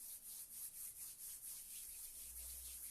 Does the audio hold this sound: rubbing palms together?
yes